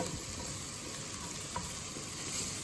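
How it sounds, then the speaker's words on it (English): Broccoli tossed into a hot frying pan with softened vegetables for peanut butter veg noodles, a steady loud sizzle and crackle of frying that holds evenly throughout, with no talk. "So I'm gonna throw in this broccoli."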